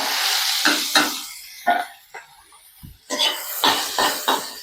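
Chopped onion and cumin sauté in hot oil for a brinjal bharit tempering, with loud sizzling that fades and surges as a spoon stirs in short, close bursts.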